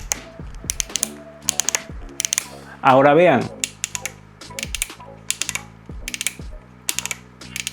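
A Kemei 1911 hair clipper's adjustment lever gives a rapid series of sharp, close ratcheting clicks, interrupted once by a brief spoken phrase.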